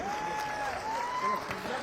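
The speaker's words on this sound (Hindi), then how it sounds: "एक बार जोरदार तालियों से स्वागत करिए।" Crowd applause rings out at a large public rally welcoming Rahul Gandhi in Chhattisgarh, a steady dense wash of clapping from many people with a thin sustained tone riding above it.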